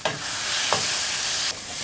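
Onions and spices fry and caramelize in a pan for a restaurant-style vindaloo. A loud, dense sizzle holds steady close up, with a couple of brief stirring scrapes.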